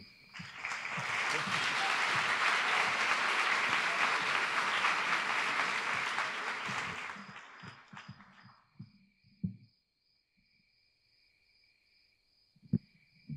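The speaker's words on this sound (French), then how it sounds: "Merci d'applaudir très fort, Caroline." Enthusiastic audience applause at a storytelling evening, a dense wash of clapping that swells, holds for several seconds and then fades out, followed by quiet with a few faint knocks and a thin, high sustained tone.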